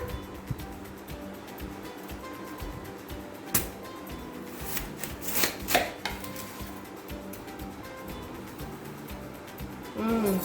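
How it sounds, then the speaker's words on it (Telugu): A knife cuts a ripe red watermelon into pieces to fill a bowl, with a few sharp cuts and thuds standing out from a low, busy kitchen background. "ముందు పుచ్చకాయ కట్ చేసుకొని పీసెస్ అన్నీ ఒక బౌల్లో వేసుకుందాం"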